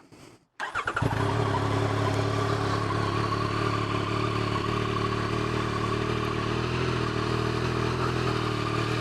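A 2023 Yamaha XSR900 three-cylinder engine cranks and catches from cold after a brief quiet moment, then settles into a loud, steady, slightly high idle that runs on alone.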